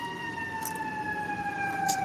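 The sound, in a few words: sirens in the background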